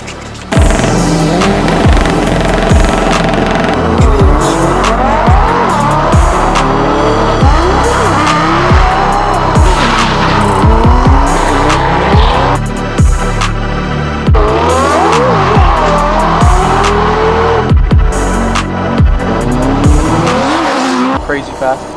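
Cars race around the PPIR track during a track day, loud engines roaring and rising through the gears with repeated tire squeals, passing close and constant throughout.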